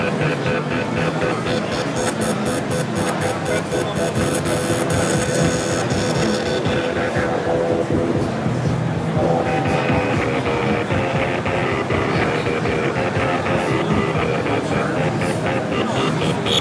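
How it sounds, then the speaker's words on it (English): A Korg MS-20 mini synthesizer is triggered by an oscillator's beat, playing repeating rhythmic pulses whose tone shifts partway through, loud against a busy trade-show background. "now the K oscillator is playing the MS-20"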